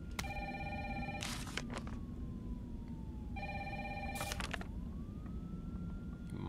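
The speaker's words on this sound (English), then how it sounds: "Got a feeling that phone's just gonna keep on ringing." An electronic telephone rings in two repeated bursts with a pause between, over a steady low background hum, in the video game Resident Evil 3.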